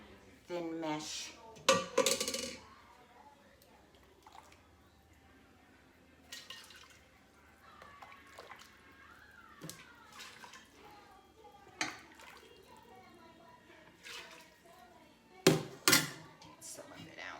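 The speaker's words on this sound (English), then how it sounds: "you're gonna pour it through a really thin mesh" Broth pours and trickles through a fine mesh strainer in uneven bursts, with occasional clinks of metal pans and faint talk in the background.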